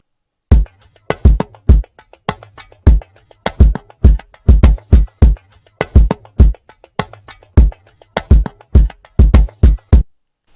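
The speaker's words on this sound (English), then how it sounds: "I then added a kick" Hip hop beat with a punchy kick drum added under a percussion loop, deep booming thumps landing in a steady groove with crisp clicky hits between them, loud and close throughout.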